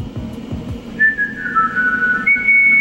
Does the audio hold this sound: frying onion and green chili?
no